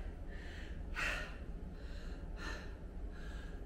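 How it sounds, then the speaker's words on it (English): An older man breathes heavily after exercise, with a few loud, close gasping inhales spaced about a second and a half apart over a quiet background. "I don't know if I'm going to edit this breathing stuff out of this."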